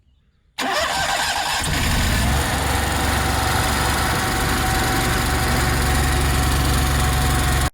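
A Cummins Onan 5500 RV generator on a motorhome cranks up after a brief quiet moment, then runs as a loud, steady engine drone that holds unchanged to the end.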